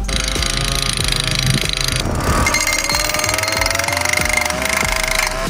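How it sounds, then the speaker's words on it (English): A small jackhammer rattles in rapid bursts, a motor whining underneath, loud and close with a brief break partway through. "we actually use just a little jackhammer."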